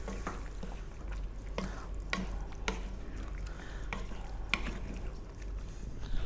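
A broccoli and potato mixture with cheese stirred in a pan after the heat is turned off, soft scraping strokes recurring at an uneven rhythm over a faint low background, quiet overall.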